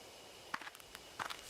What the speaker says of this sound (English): You hear footsteps again.